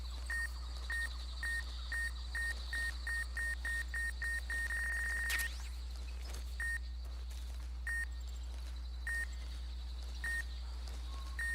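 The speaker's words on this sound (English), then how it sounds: "That beeping is terrifying." Piercing electronic beeps sound in a fast, regular series that speeds into one long continuous tone, then settle into slower, evenly spaced single beeps over a steady low hum.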